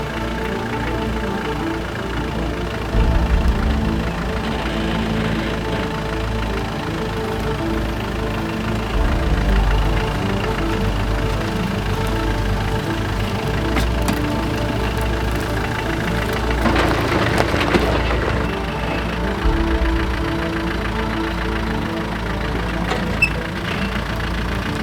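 An off-road vehicle's engine rumbles steadily at low revs as it creeps downhill on an off-camber trail, a continuous close drone with occasional slight surges and no voices.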